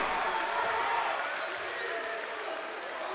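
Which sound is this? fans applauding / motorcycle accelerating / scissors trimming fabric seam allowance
fans applauding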